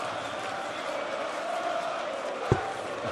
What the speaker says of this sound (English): The crowd playing their part.